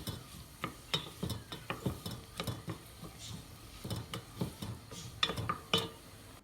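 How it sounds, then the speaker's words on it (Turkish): A medium onion is stirred into butter and a little olive oil in a pot for Turkish ezogelin lentil soup, giving irregular close scraping and tapping strokes with a faint sizzle underneath. "Ve bir orta boy soğan ekleyip karıştırıyorum."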